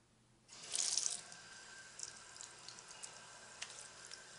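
Tap water starts running into a sink to wet hands, a soft hiss with light splashing and a few drips, quiet and close after a brief silent moment.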